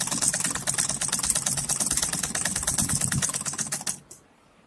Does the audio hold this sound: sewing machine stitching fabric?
yes